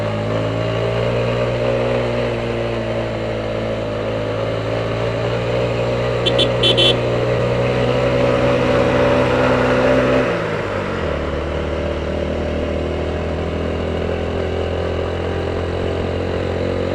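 A motorcycle engine pulls uphill in first gear on a hill road, a loud close drone that holds steady and then drops in pitch as the revs change partway through.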